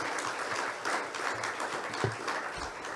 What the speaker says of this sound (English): We clap for the guests until he gets here